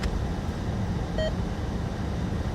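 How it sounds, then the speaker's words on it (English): A police scanner gives a single short electronic beep as its battery runs low, sounding once over a steady, quiet background hum at night. "This one, you guys hear that beeping and it's about to die."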